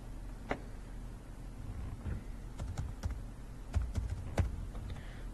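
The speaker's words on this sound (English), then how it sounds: "I'll just type it in." Keys tapped on a computer keyboard in a few short, scattered bursts of soft, faint clicks over a quiet room hum, with no voices.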